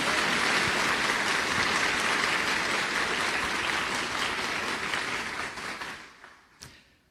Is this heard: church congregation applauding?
yes